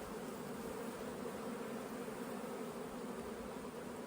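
Young honey bees crawl over brood comb in an open hive, with the queen moving among them, making a steady, dense buzzing hum that stays even and close throughout without pause.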